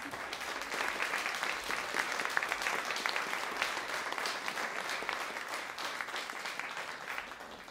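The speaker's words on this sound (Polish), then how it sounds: "Wielkie brawa!" Audience at an end-of-year school concert by a music school claps steadily, a dense, even wash of applause holding strong throughout before tapering slightly at the close.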